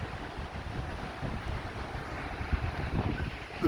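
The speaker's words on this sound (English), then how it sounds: "Try to shelter from the wind, but it's really blustery" Gusty wind blusters across a microphone outdoors in Blackpool, a steady, low, rumbling buffet with uneven surges and no voices.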